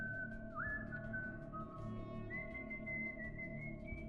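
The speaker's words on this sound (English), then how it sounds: "I was almost asleep when I heard whistling outside." A single person whistling a slow, wavering, off-key tune outside at night, faint and distant, with a low steady hum underneath and no talking.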